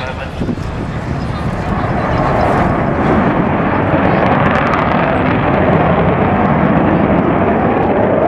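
An Avro Vulcan bomber flies past at the RIAT 2010 air display, a loud, steady, broad jet roar that holds unbroken throughout.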